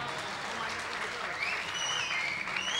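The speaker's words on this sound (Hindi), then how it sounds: "कुछ तालियाँ जो है मुश्ताक अहमद के लिए भी हो जाए।" An audience at an arts council talent program applauds to welcome a harmonium player, a steady wash of moderate clapping heard from some distance with a faint voice over it.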